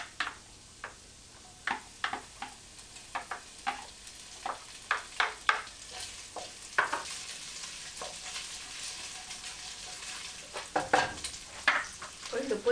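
Garlic fries in a hot pan for a Malaysian mandarin duck dish: a steady close sizzle with repeated sharp scrapes and taps from stirring, a few louder clatters near the end, and no voices.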